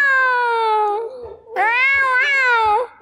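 A person imitates a cat, giving two drawn-out, loud, nasal meows close to the listener, the second rising and wavering. A brief pause separates them.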